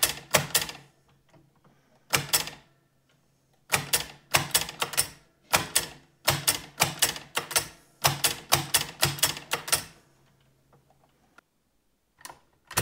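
An AEG Mignon 4 index typewriter is operated with a pointer, giving bursts of rapid mechanical clicks and clacks in uneven groups separated by short quiet pauses, close and alone.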